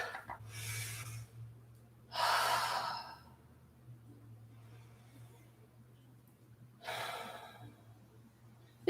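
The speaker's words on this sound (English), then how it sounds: "Taking just a couple breaths." Slow, deep breaths during a yoga leg workout: three long, airy exhales come several seconds apart, each a soft drawn-out sigh, close and fairly quiet over a low steady hum, with no talk.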